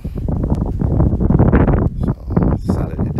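Strong wind buffets the microphone in loud, rumbling gusts that rise and dip, with brief rustling between them, outdoors before a Hubsan Zino Pro Plus drone flight.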